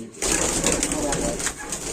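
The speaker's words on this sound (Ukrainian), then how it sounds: "это все молодая голубка" A young Baku fighting pigeon coos softly and continuously close by, a low rolling call, while people talk over it.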